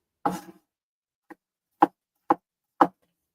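Fresh, just-harvested onions chopped with a knife on a board, several crisp isolated chops spaced about half a second apart, close and clear against silence.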